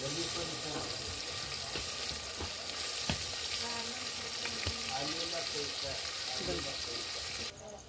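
Yogurt hitting a hot biryani pan, a loud steady sizzle and crackle with stirring clatter, a person talking nearby, cutting off abruptly at the end.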